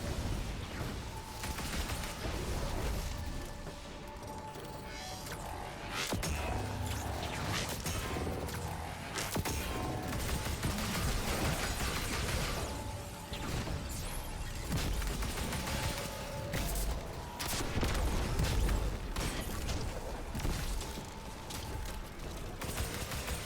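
Rapid gunfire from shooting at a harpy in Destiny 2 rattles on almost continuously, dense bursts layered with mechanical clatter and impact crashes, steady and fairly quiet.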